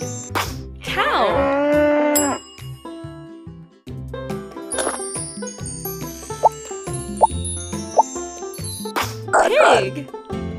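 Cartoon-style cow moo in a children's animal rhyme, a long sustained call near the start over a busy musical backing with plinks and chimes.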